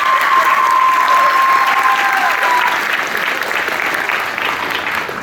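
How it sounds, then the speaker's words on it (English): Sustained applause fills a graduation ceremony, a dense steady wash of many hands clapping that slowly eases, with a few voices and a brief whistle over it. "Another round of applause for all of you."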